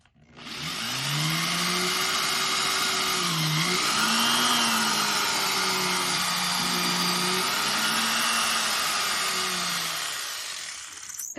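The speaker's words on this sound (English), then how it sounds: "drill a hole that we can get the screw going into" A power drill whines steadily for about ten seconds as it bores a pilot hole for a screw, its motor pitch wavering slightly, loud and close, with no talking.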